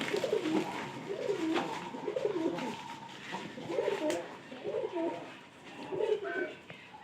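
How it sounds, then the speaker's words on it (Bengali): Pigeons coo in repeated soft, rolling phrases nearby, a steady rhythmic cooing over faint background noise. "এই যে পায়রাটা কিন্তু নিচে নামছে"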